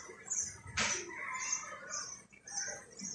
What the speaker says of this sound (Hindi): ये देखें बर्ड भी आके उसमें घुस गई है अपने बर्ड हाउस में।